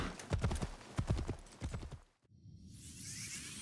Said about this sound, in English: So I'm just going to call up the horse.